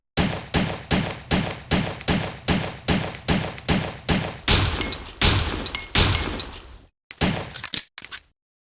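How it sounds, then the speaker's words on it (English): Handgun C in the video game Resident Evil Survivor fires a long run of sharp, evenly spaced shots, about a dozen in a row, then a short pause and a few more bursts with metallic clinks. "Now let's go ahead and test it out."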